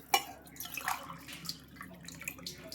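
Water is poured into a rice cooker for tomato rice, a soft close splash and trickle with a few faint drips, fairly quiet and alone.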